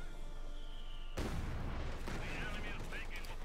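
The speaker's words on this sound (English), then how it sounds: "More heavy mortar fire." Heavy mortar fire in the real-time strategy game Company of Heroes 2, a loud booming blast cutting through a steady battle din, with rumbling explosions and scattered gunfire following.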